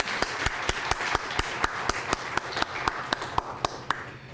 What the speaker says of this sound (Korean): 우리 박수로 하나님께 영광 올려드리겠습니다